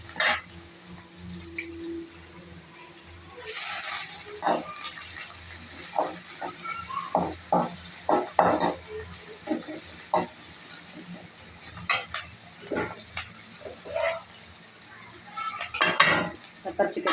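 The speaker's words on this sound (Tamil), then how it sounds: "வெங்காயம் நல்லா வதங்கட்டுங்க." Chopped onions, medium and small ones, sautéing in oil in a pan for chicken gravy, a low background sizzle broken by scattered scrapes and knocks of the stirring spoon.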